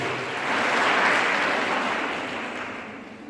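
An audience claps for children from a drawing competition at a photo exhibition event, a dense burst of applause that swells and then gradually fades over a few seconds.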